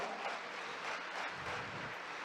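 A church congregation claps together in a steady, even patter of applause, fairly soft and heard alone without talking.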